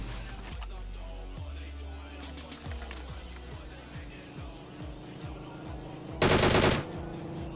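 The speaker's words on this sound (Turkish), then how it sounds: "arka tarafta çatışma çıktı" A PUBG Mobile firefight rattles on with a steady series of gunshots at medium distance, repeated cracks spaced a fraction of a second apart over low engine rumble, ending in one loud close burst.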